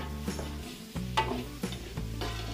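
Onions sauté in a pan for a Filipino party dish, with a soft sizzle broken by several sharp scrapes and clanks of a utensil stirring them.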